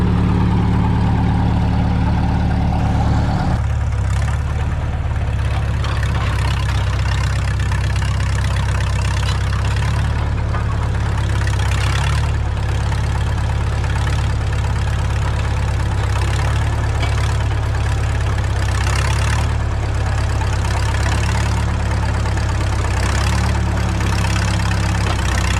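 The engine of a 1952 Caterpillar D2 crawler tractor runs steadily while being steered, a loud, close, low rumbling drone with a knocking chug. The pitch shifts slightly near the start and the engine then continues unbroken with no talk.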